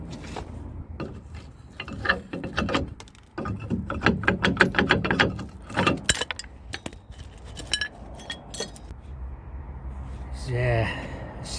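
A hex key on a ratchet loosening the rear brake caliper bolts on a Ford Transit Connect during a front brake pad change, making rapid, close, uneven ratcheting clicks in bursts with metallic knocks.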